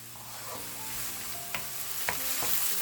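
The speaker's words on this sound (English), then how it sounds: "which I'm going to sprinkle with a pinch of salt and saute for 8 to 10 minutes until the onion is no longer raw" Onion sautéing with a pinch of salt in a pan for a chicken liver and gizzard stew, a soft steady sizzle with a few light stirring clicks, fairly quiet and with no one talking.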